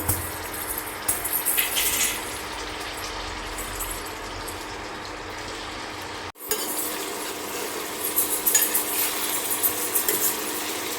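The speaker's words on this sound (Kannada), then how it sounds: "ಎಣ್ಣೆನ ಪನ್ನೀರ್ನ ಹಾಕಬೇಕು ಹಾಕ್ಬಿಟ್ಟು ಫ್ರೈ ಮಾಡಬೇಕು" Paneer pieces fry in a few spoonfuls of hot oil for paneer Manchurian gravy, giving a steady loud sizzle with occasional metallic clinks and a short break partway through.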